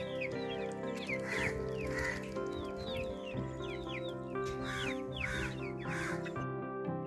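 Hen clucking in a Kerala household yard, with repeated short clucks and calls over steady background noise; other birds or fowl sound faintly alongside.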